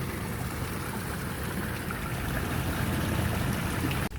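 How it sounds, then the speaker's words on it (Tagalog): Water from a dirty fishpond drains out through the drainage, a loud, steady rushing and gurgling flow that runs unbroken before cutting off abruptly at the end. "So ayan na yung tubig mga gawiks palabas dito sa drainage."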